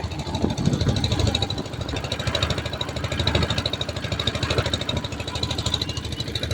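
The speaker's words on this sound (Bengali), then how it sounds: "আরেকটা নৌকা কিন্তু আমাদের সাথে এখন ওভারটেক করতেছে" A boat engine drones steadily, a chugging mid-pitched run with fast regular pulses, as another boat passes during a rainy-season trip across Chalan Beel wetland waters, loud and continuous with no voices.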